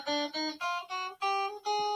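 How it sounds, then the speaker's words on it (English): Guitar spider finger exercise, single picked notes climbing the top strings and shifted up the fretboard, six or seven clear ringing notes in an even rhythm, close and alone. "So the top, so the whole top part of the spider will sound like this."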